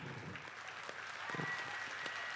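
Audience applause at a Hindi poetry recital by Hariom Panwar, a steady wash of clapping heard from the crowd with no voices over it.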